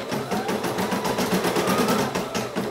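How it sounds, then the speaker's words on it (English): A Brother SE1900 embroidery machine stitches a design onto a onesie, with a loud, steady, rapid mechanical whirring and rhythmic needle chatter running throughout. "Let the SE1900 stitch the first part of the design out."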